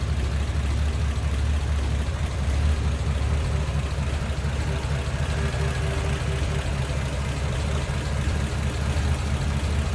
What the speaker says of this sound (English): Here's the flathead. See how smooth that runs with the one carb setup.